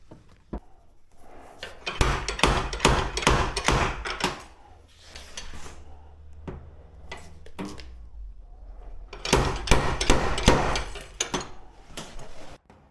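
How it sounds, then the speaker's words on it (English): Panel hammers striking a dented steel car door to straighten it, sharp metallic blows in quick bursts separated by short pauses, loud and close. "I used various panel hammers to straighten the door"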